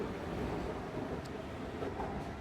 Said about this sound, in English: Man has just missed the train.